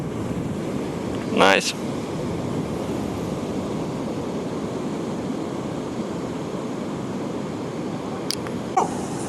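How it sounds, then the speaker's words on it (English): Large ocean waves breaking on Calangute Beach in Goa, a constant broad roar of surf mixed with wind buffeting the microphone, with a brief spoken word and a couple of faint higher calls. "There's very large ocean waves."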